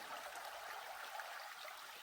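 A higher-running river creek in Washington State woods flows with a steady, close hiss of rushing water, quiet overall and unbroken, with no voices.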